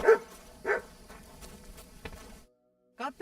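A dog in the video game Kingdom Come: Deliverance 2 whimpers and yelps in short bursts, a few brief cries with a pause of silence before a final whine.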